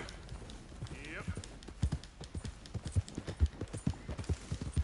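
Horse hooves clip-clop in a steady walking rhythm of close, distinct thuds in the Red Dead Redemption 2 video game, with a brief soft whinny early on and no spoken words.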